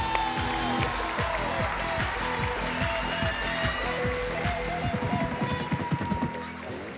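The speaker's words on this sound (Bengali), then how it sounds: "পিটারের জন্য, পিটারের গোটা টিমের জন্য জোরে হাততালি সবাই" Studio audience applause on a Bengali TV talent show stage after a dance act, with music playing loudly over the clapping throughout.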